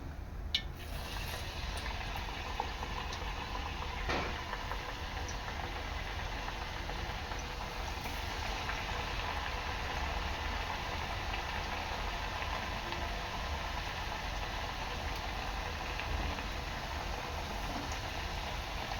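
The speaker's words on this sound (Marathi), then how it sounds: "हे पहा आता मी दुसऱ्या चकला सुद्धा तळून घेणार आहे" Wheat chakli frying in hot oil, a steady low bubbling sizzle that continues evenly throughout with a few faint clicks near the start, and no voices.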